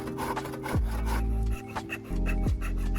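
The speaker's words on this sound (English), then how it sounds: "I'll need to cut this little piece of wood too" A saw cuts through a small piece of wood at close range, a loud, gritty rasping of steady strokes with brief drops in pitch where a stroke ends, and no talking.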